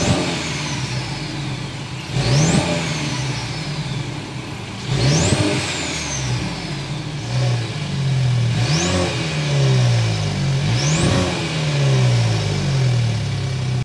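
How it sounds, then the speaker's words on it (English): A 2024 Mercedes-Benz engine fires up and revs repeatedly, each sharp rise in pitch falling back to a throaty exhaust idle, loud and close, with no talking. "start up both of these new variants so you can hear the exhaust note"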